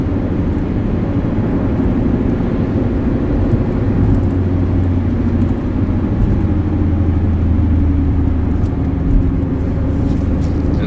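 A manual car cruises in fourth gear, its engine and road noise a steady loud rumble heard from inside the cabin throughout, with no talking.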